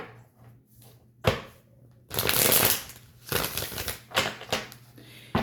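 Tarot cards being shuffled by hand, with bursts of papery riffling and slapping at a close distance, alternating with brief pauses and quieter handling between the louder bursts.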